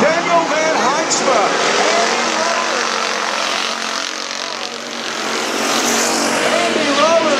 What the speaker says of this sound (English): Van Heinsma powers down the back straightaway.